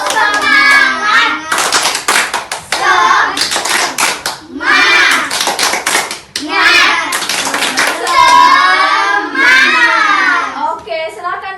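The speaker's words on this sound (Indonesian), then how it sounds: "Ayo sama-sama kita tepuk semangat." A classroom of children claps together in a quick rhythmic pattern, mixed with chanting voices, loud and close, in several bursts.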